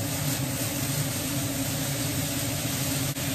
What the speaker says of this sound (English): I do have the exhaust on, so I don't know if you guys can hear me very well